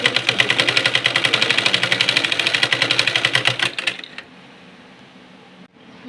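A sewing machine stitching a blouse sleeve: a fast, even run of mechanical clatter up close, which slows and stops partway, leaving near silence with a faint click.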